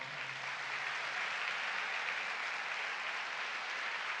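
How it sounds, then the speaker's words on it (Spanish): A church congregation applauds with a steady, sustained wash of many clapping hands, evenly loud from start to finish. "Denle un aplauso al Señor."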